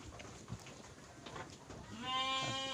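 Sheep in a pen at a sheep breeding farm in Garut, with one clear bleat near the end over a low background of shuffling.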